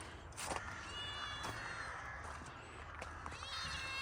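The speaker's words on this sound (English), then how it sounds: "do we think this is a relative of Mauser, the Mousel cat?" A cat meows a few times outdoors at Christmas, the calls faint and thin over a steady background rumble, with brief knocks and a person talking nearby.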